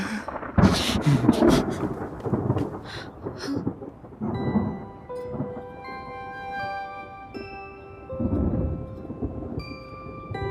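Heavy rain hisses steadily while deep thunder rumbles in several rolling bursts, with a faint musical tone drifting underneath.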